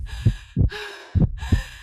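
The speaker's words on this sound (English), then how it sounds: "her heart beating furiously inside her chest" A heartbeat sound effect for a nervous bride's heart beating furiously: paired low, soft thumps repeating quickly in an even pulse beneath a sustained, airy musical pad.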